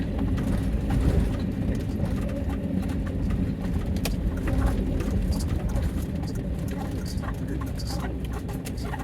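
A car drives along the road, its steady low rumble and road noise running throughout while people talk inside.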